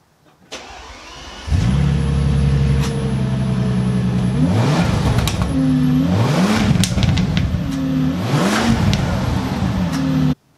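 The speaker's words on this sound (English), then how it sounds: "The Bentley is a car that, well, is unexpectedly loud" A Bentley's twin-turbocharged 6-liter W12 starts up and revs repeatedly, loud and close, with rising and falling sweeps over a steady idle.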